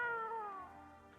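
A single short cat meow from a video game, clear and close, with a falling pitch that trails off after about half a second.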